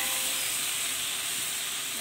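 Finely chopped onions, 1.25 kg for a large batch of veg biryani, fry in hot oil with a steady, loud, close sizzling hiss that runs unbroken throughout.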